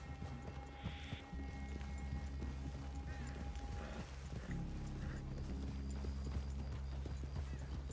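Horse hooves in the video game Red Dead Redemption 2 clip-clop steadily at a walking pace, fairly close, with a brief whinny and low ambient hum underneath.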